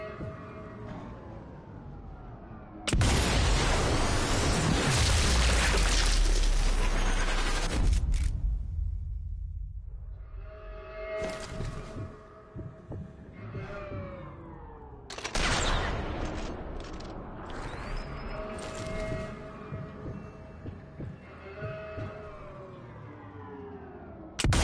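Heavy burst of gunfire in Sniper Elite 4, a loud sustained fusillade opening the scene, followed by further bursts and rumbling combat noise with tonal game effects layered over it.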